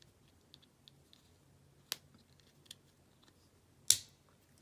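A stapler from a stationery haul is clicked down into its set position, giving a sharp mechanical snap near the end after a smaller click earlier, with faint ticks in between against a quiet room.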